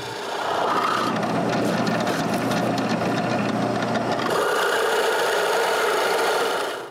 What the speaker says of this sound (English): with a big Forstner bit, I drill a hole on each marking